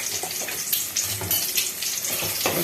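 Eggs fry in a pan with salt, coriander powder and other spices, a close, continuous sizzle with occasional scraping stirs and no voices.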